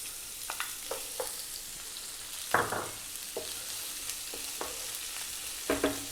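Onion going into hot oil in a pan for lamb lentil curry, a steady low sizzle broken by a few sharper stirring and scraping knocks, close and moderately quiet, with no voices.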